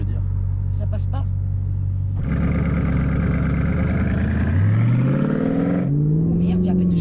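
A bi-turbo Audi R8 with over 750 horsepower rumbles at a low idle, then surges into a loud, close rev whose pitch climbs steeply before easing back and rising again.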